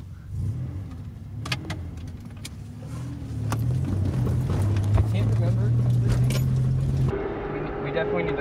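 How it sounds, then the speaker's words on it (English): A car engine idling after stalling in a river crossing, a steady low hum with rising and falling tones alongside splashing and clattering, ending in a cut to a quieter scene. "We definitely need to let the engine run"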